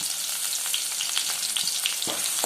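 Bright, crackling sizzle of onion, crushed garlic and tomato frying in hot sesame oil, with a few soft stirring knocks near the end, close and alone.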